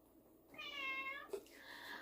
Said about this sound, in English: You are just a tortured cat.